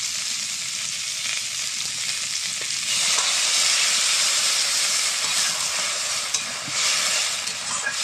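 Water hits mango pieces frying in a pan, setting off a loud hissing sizzle that swells sharply partway through and keeps bubbling steadily afterward.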